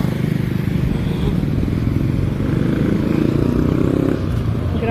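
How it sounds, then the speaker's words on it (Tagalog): A motorized tricycle driven by an elderly man passes along a highway near a market, its small engine putting out a steady buzzing, rattling drone that stays fairly close and loud, with faint clatter and no talk. "Tatay, nagto-tricycle si tatay."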